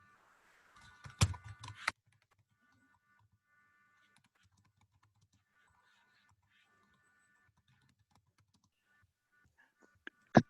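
Typing on a computer keyboard to insert data into a MySQL table: a short, close burst of rapid key taps, then near silence, then a few final loud clicks at the end.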